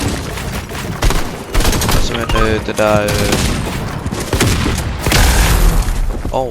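Rapid bursts of gunfire and booming shots from a video game fill the stretch, loud and close, with excited players talking over them throughout.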